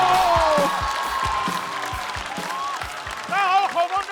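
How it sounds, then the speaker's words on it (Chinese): A studio audience at a stand-up comedy competition show applauds and cheers to welcome a comedy duo onto the stage: a dense, steady wash of clapping with tones running beneath it and a brief louder swell near the end. "掌声有请！"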